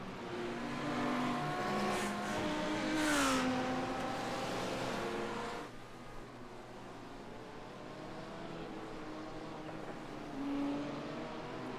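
GT3 race cars from a racing video game battle side by side into a kink, engines droning loudly with rising revs and a passing surge, then settling into a steadier, quieter engine hum.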